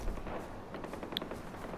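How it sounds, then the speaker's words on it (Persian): Gunfire crackles in the Far Cry 4 video game, a dense run of rapid shots with a rumbling undertone and one sharper report partway through, steady and moderately loud. "طبق معمول صدای تیراندازی از اطراف میاد."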